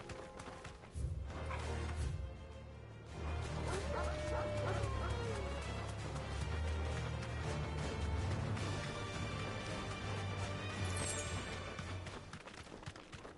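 Dog barking in the video game Final Fantasy 16, repeated barks and yips with whimpers over busy game sounds, footsteps and hoof-like clopping, with a voice talking at times.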